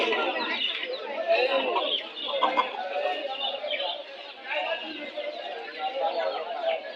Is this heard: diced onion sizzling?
no